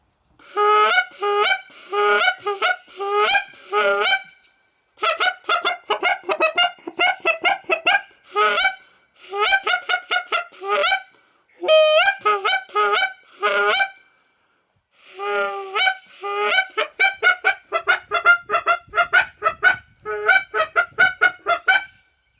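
A hand-blown goose call imitates geese with loud, close honks in rapid rhythmic bursts, rising and falling series of clucks and honks separated by short pauses, with no talking.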